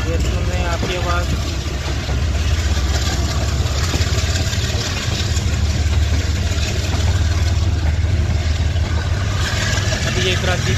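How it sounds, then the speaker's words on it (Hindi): Diesel locomotive of the Tezgam Express, on a run from Lahore to Raiwind, throbs with a deep, steady engine drone as it builds power, heard close and continuous while someone talks over it. "इंजन अपनी पावर हासिल करते हुए ये सुन रहे हैं आपकी आवाज़"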